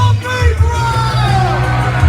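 A wrestling crowd yells and jeers at the heel wrestler Colt Stevens, loud and continuous, with shouts and whoops rising over a dense roar.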